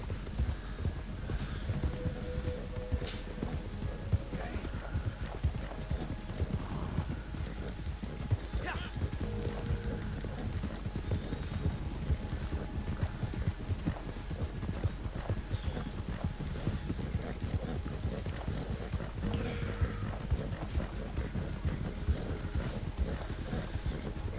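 Horse hooves clip-clop steadily in the open-world western game Red Dead Redemption 2, a continuous trotting rhythm under ambient game sound, with an occasional whinny and brief talk.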